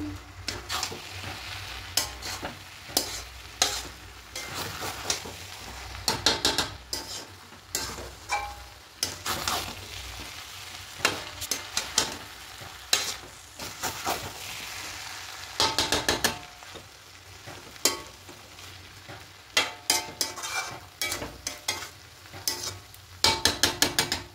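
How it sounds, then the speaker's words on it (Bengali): Gobindobhog rice kacchi biryani is stirred in a pot over a high gas flame, with a steady sizzle under repeated scraping, clattering strokes of a spoon against the pot, fairly faint and with no talk. "এবার গ্যাসের ফ্লেমটাকে বাড়িয়ে দেব, মানে আঁচটাকে বাড়িয়ে দিলাম, দিয়ে এবার খুব ভালো করে মিশিয়ে নেব।"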